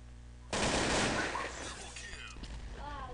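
AK-47 gunfire in a video game, a loud rapid burst that trails off into scattered game sounds while people talk over it.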